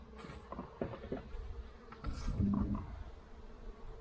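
Honey bees buzz around a hive being split, a faint and uneven droning with nearby handling noises and rustles.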